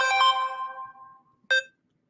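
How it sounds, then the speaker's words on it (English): A phone ringtone plays a bright, tonal chime that rings out and fades, then a short second burst sounds after a brief gap, clear in an otherwise quiet room. "I thought I put my phone on do not disturb."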